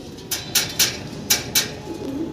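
A fancy pigeon coos close by in about five soft, throaty notes over a quiet background.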